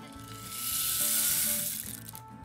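A bamboo rainstick tipped upside down gives a steady hissing cascade of pattering grains that swells and fades over a couple of seconds, heard close and alone.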